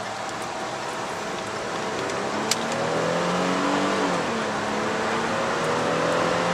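A 2008 Ford Flex engine runs steadily and revs higher, its pitch rising through the gears as it shifts at a little over 6,500 RPM, loud and close, with no voices.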